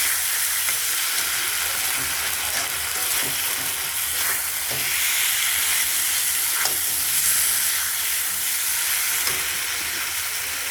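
Spice paste sautéing in a pan for a katla fish curry with stalks and potatoes, making a bright, steady, hissing sizzle with faint stirring scrapes throughout.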